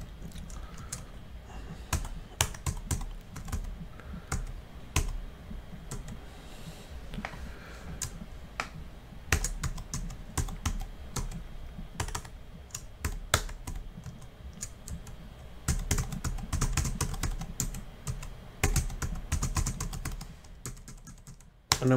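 Fingers type on a computer keyboard during a software server install, a close run of irregular clicky keystrokes with brief pauses and a few heavier key presses.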